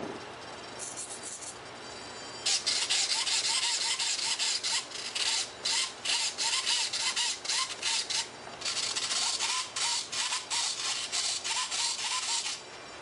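Two tiny 1.9-gram linear servos drive a micro thrust vector nozzle behind a small five-bladed electric ducted fan. They give repeated short, rasping mechanical buzzes in quick irregular bursts, close up and with no talk.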